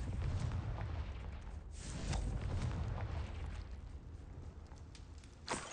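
Confringo fire spell explosions in the video game Hogwarts Legacy: a steady roaring, crackling blast texture with sharper bursts around the second and near the end, loud and close with no talk.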